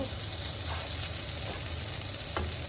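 Meat fries in a pan with a steady, dense sizzle and crackle throughout, close and continuous, with no one talking.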